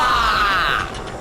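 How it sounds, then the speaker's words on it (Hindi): A house door being broken down in a horror story, heard as a loud, close creaking and grinding mechanical groan that strains, then drops away abruptly. "और फिर उसने रविशंकर के घर का दरवाजा तोड़ दिया।"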